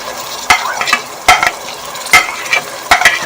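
Masala with ground tomatoes frying for chana biryani: a spoon scrapes and stirs the pan in about six sharp strokes over a low, continuous sizzle, close and clear.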